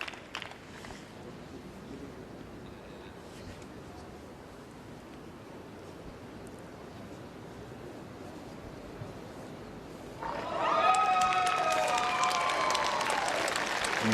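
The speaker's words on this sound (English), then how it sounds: "You might have heard the cheer in the background" A crowd at the 2014 Commonwealth Games lawn bowls, cheering Northern Ireland's women's pairs bronze, breaks out in loud, sustained applause and cheering partway through, after a long stretch of low background murmur.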